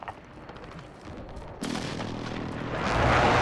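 Airstrike explosions and gunfire from Call of Duty Modern Warfare multiplayer: a steady rattle of distant shots gives way to a sudden loud blast at about a second and a half, followed by a thickening roar of fire and explosions.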